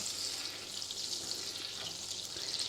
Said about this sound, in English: And we're just going to let this butter melt.